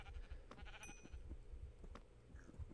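Sheep bleat repeatedly in Minecraft, with several short game-style bleats spread across a steady low background hum; no one speaks.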